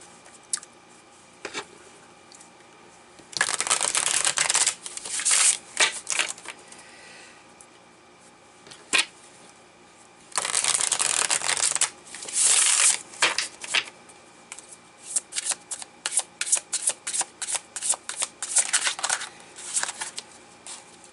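Tarot cards are shuffled in bursts of riffling and sliding, quiet and close, with sharp flicks and taps of cards between the longer shuffles.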